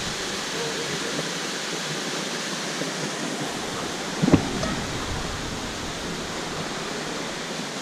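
Sungai Jerangkang waterfall in Pahang, Malaysia, pours as a constant, even roar of rushing water, close and full, with one short soft knock partway through and no talking.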